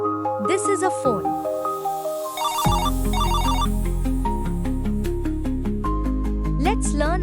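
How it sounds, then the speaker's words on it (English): A phone rings with a bright electronic ringtone melody of repeating beeping tones over a bouncy backing tune, loud and close, with a voice talking over it. "This is a phone."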